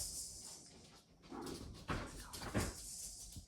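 A puppy whimpers and gives a few short barks somewhere nearby in a home where a child is also present, the sounds arriving in scattered bursts over a constant background hiss.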